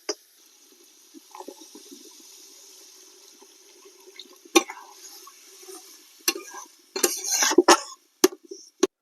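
Water is poured into a pan of fish curry (small fish in a tomato and onion gravy), with a soft trickle followed by clinks and clatters of utensils and pan, close and without talk.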